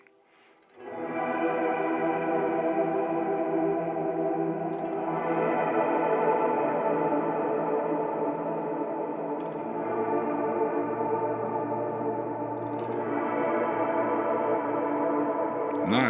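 Electric guitar playing sustained chords through a wet reverb channel, with a ToneX pedal feeding a BOSS GT1000, ringing continuously with lush, echoing tails and a shimmering chorus-like wash, fairly loud and steady throughout.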